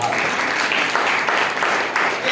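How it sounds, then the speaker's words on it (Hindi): Congregation clapping at a Hindi-language church service, a steady dense wash of many hands filling the room throughout, loud and continuous with a faint voice underneath. "तालियां बजा सकते हैं"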